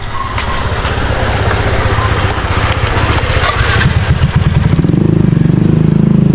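A motorcycle engine running loud and close, a steady rough idle with rapid clattering pulses that deepens and strengthens toward the end, with no voices over it.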